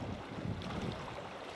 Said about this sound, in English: The wind found us.